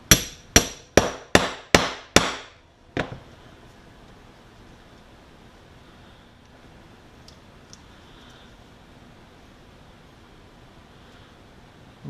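Hammer striking a punch to cut a 3/4 inch washer, six rapid sharp metallic blows in an even rhythm followed by one last hit, then quiet room tone.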